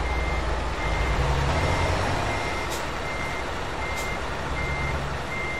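A truck in the video game Euro Truck Simulator 2 pulls away with a loud, constant engine rumble, a steady reversing-style beep tone, and two brief sharp hisses partway through.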